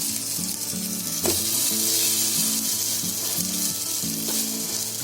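A vegetable sandwich cooking on a tawa over a gas flame on medium heat, giving a loud, steady, close sizzle that runs the whole time with no talking.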